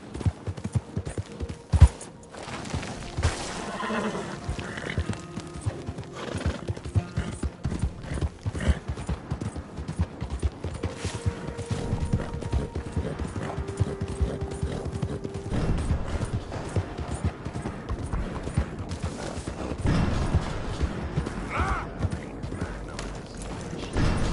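Horse hooves gallop in a video game with a steady, continuous clip-clop that runs throughout, mixed with game mechanisms, scattered gunfire and an occasional whinny.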